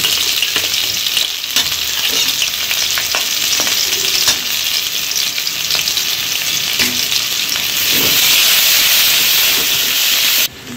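Two finely chopped onions fry in oil already tempered with whole spices for a mutton biryani, giving a steady, loud, close sizzle with faint stirring scrapes throughout and no talking.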